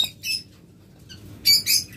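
Pet birds kept for sale squawk and chirp in short sharp bursts, a few bright calls separated by quiet moments, fairly close and alone without talk.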